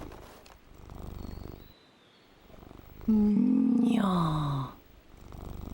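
A cat purrs in soft rhythmic pulses, followed by a loud rising and falling tonal sweep, then the purring returns; a voice briefly speaks.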